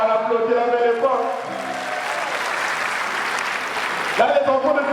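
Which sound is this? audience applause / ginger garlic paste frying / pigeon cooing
audience applause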